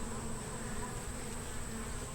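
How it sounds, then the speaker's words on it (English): Honeybees flying around a deep nuc hive with four frames at a bee ranch, a steady close insect hum with no talk. "his bees are doing fine, flying around, eating hearty"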